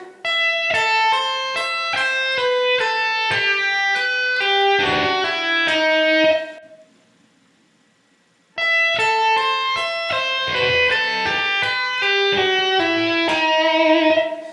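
An electric guitar plays a fast, ringing tapped-and-plucked riff in two rapid bursts of bright notes, separated by a short silent gap.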